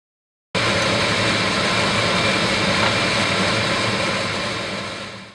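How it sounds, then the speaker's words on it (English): An air blower runs steadily to push hydrogen bromide smoke out of a laboratory funnel. It starts abruptly and gives a loud, continuous whooshing roar that fades slightly at the end, with no voices. "use the air blower to blow out the hydrogen bromide smoke in the funnel"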